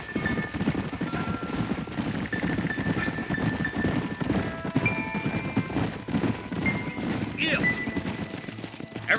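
Horses trot together in Red Dead Redemption, a steady rhythmic clip-clop of several riders approaching a fort, with a faint whinny near the end and a low ambient background.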